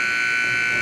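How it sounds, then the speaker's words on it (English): Ice hockey end-of-period buzzer at a Brainerd versus Fergus Falls boys' game, sounding as a steady, loud, unbroken electronic drone through the arena for the whole moment. "That's the buzzer. End of second period."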